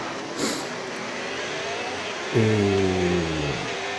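Racing cars from a video game roll off on a formation lap, a steady engine drone with a rising gear whine cutting in partway through, fairly close and alone.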